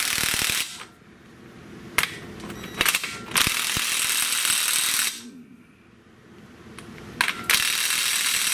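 A ratchet tightens the new CV axle nut on a 2003 Mitsubishi Eclipse, several bursts of close, loud clicking separated by quieter pauses.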